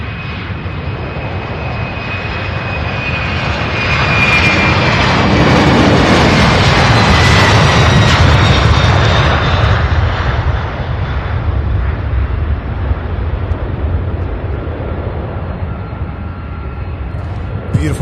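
A UPS heavy jet takes off from Louisville airport with a broad, rising engine roar that swells to a peak midway and then slowly fades as it climbs away, loud and sustained throughout.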